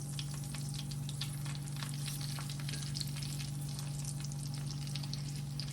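Squash pieces sizzle and brown steadily in a hot pan, a constant close frying hiss with small crackles and pops throughout and no talking.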